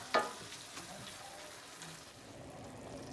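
Stirring a simmering dish in a pan, a soft steady sizzle with a sharp scrape or clink at the start and faint spoon movements afterward, close and moderately quiet.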